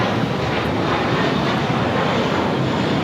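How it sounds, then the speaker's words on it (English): A JetBlue Airbus A321 jet at LAX airport roars steadily and loudly nearby, a continuous broad engine rush with no talking. "That is the JetBlue A321 heading to JFK."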